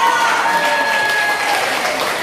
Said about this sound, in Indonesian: Sekarang kelompok A, berikan tepuk tangan yang meriah untuk pasukan.